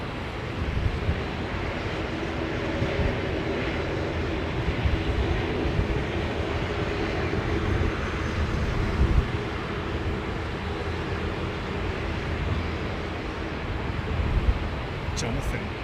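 A jet airliner roaring with engine thrust on takeoff at London Heathrow Airport, a broad steady rumble with wind buffeting the microphone while people talk over it.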